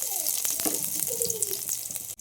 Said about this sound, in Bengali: এবার এগুলো নেড়ে নেড়ে তেলে ভেজে নেব